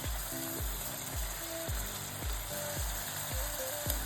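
Garlic sizzles and fries in a pan for an Ethiopian kocho dish, a constant bright hiss close by with a steady low rhythmic thumping in the background throughout.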